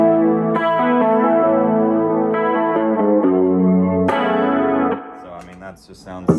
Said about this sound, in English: The chorus on it is really, really good too, if you're playing any kind of 80s anything.